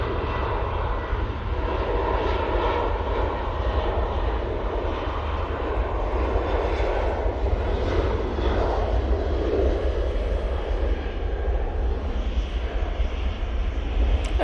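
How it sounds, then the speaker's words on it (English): Jet2 Boeing 737-800 on its takeoff run at Manchester Airport: a sustained, loud jet roar with shifting midrange whine, continuous for the full stretch and heard alone without voices. "And this Jet 2, 737-800, is off to Olbia."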